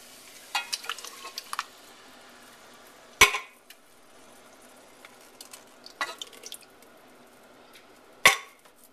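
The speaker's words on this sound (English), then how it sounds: "now what I'm going to do is pour in my tomatoes" Tomatoes poured into a pan with tomato paste for homemade ketchup, with soft sizzling and liquid splashing, several sharp clanks of utensil against pan, and light stirring scrapes between them.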